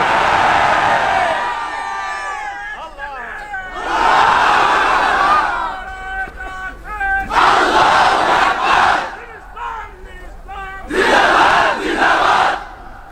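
A large congregation of Muslim worshippers in Bangladesh roars an Allahu Akbar slogan in three loud, sustained bursts, each swelling then fading into quieter murmuring between waves.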